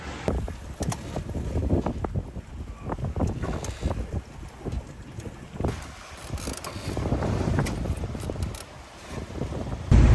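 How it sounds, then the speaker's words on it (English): Strong gusting wind roars across the microphone aboard a catamaran motoring straight into 33-knot squalls, with boat and water noise beneath and steady buffeting that swells and eases throughout, no voices. "So we got 33 knots of wind, and we're motoring straight into it."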